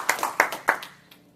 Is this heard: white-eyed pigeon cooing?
no